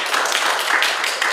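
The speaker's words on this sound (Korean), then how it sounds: "참여해주신 강인철 교수님께 다시 한번 박수 부탁드립니다" Audience applause for a lecturer at the close of a Korean forum talk on the May 18 Gwangju uprising, a brief dense burst of many hands clapping steadily, close and loud with no voices.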